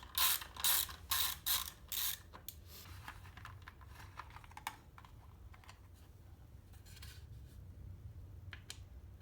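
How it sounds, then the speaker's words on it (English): A T25 Torx bit working motorcycle heat shield bolts loose on a Yamaha MT10, with a burst of quick ratcheting clicks followed by quieter scattered ticks and metallic taps, close and fairly faint. "So just grab a T25 Torx bit and go and remove all the other little bolts."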